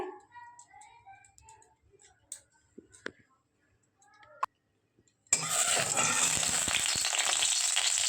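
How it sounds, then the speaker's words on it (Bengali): Ghee hits a hot kadai and erupts into a loud, steady sizzle for the last few seconds, after a quieter stretch of voice and small kitchen clicks. "এই যে কড়াই বসিয়ে দিয়েছি, কড়াইটা গরম হয়ে গেছে। আমি এর মধ্যে ঘি ঢেলে দিচ্ছি।"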